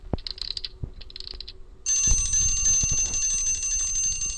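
An alarm clock thrown as a distraction in the horror video game Escape Horror Hospital starts with a few short electronic beeps, then breaks into a loud, continuous ringing with a few dull thuds underneath.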